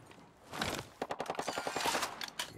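Rapid automatic gunfire in the video game Ghost Recon Breakpoint, a burst of fast regular shots that swells and rolls on for over a second, loud and close.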